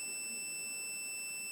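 Alarm device buzzer beeping steadily after being disconnected in a router control and online security system, a thin high-pitched electronic tone held constant and fairly faint throughout, with no voices.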